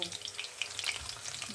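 Oil crackles and sizzles as an ingredient toasts in a pan for chicken simmered in coconut milk, with quick pops and a soft stir over a low, steady fry.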